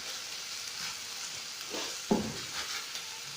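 Chicken sizzling steadily in a hot pan in a home kitchen, with a low continuous frying hiss and a couple of brief stirring scrapes near the end.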